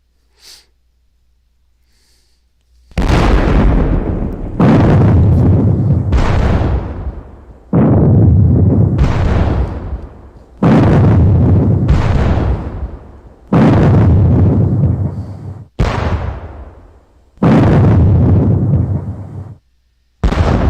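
Artillery fire in the wargame JTS Campaign Marengo: a series of about nine loud booming cannon blasts, each with a long rumbling decay, coming in quick succession after a moment of near silence.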